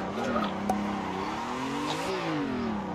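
Drifting car in a racing simulator game, engine droning steadily at high revs with pitch rising and falling as tires skid through a manji swing, continuous and close with no talk.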